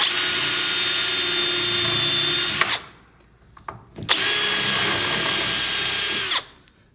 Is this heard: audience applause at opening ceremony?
no